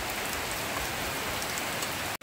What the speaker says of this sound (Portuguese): Chuva, meu povo, chuva.